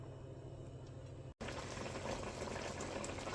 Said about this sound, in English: I'm going to add some more water and cover them back up and let them cook for another hour